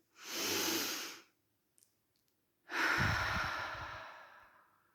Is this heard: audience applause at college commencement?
no